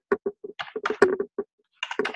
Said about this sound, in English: All I'm doing is typing.